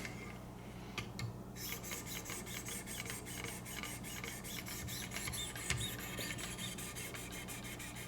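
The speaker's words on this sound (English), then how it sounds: "Here's 3000. This will be the last stone, and then we move to the lapping films." A Benchmade 940 knife with M4 steel blade and blue carbon fiber handle is sharpened on a 3000 grit stone in a Wicked Edge guided system, giving steady rhythmic rasping strokes, close and even, with no talk.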